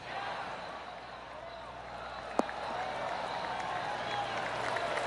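Light, scattered golf-clap applause from a small crowd in the video game PGA 2K23, polite and steady, with one sharp knock partway through and faint background murmur.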